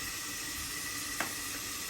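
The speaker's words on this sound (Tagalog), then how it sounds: "Nagpiprito na ako ngayon." Steady sizzling of marinated chicken drumsticks frying in hot oil, a constant crackling hiss with one small pop partway through.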